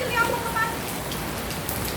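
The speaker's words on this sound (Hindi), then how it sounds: "बारिश हो रही थी बहुत तेज़" Heavy evening rain pours down in a steady, dense hiss of drops striking surfaces, continuous and fairly close throughout.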